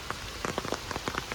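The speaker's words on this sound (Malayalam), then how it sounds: "ഈ മഴ പെയ്തുകൊണ്ട് ഒരു നല്ല ആശ്വാസമുണ്ട്." Heavy rain pours steadily onto a surface, with scattered louder drops and patters standing out over a dense, constant hiss; no voices.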